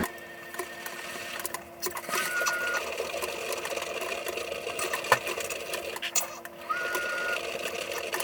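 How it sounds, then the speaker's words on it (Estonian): A washing machine runs steadily nearby in a home, giving a continuous mechanical whir and rattle with faint whining tones and a few small clicks, and no one talks. "Ja see hääl, mis siin on pesumasin."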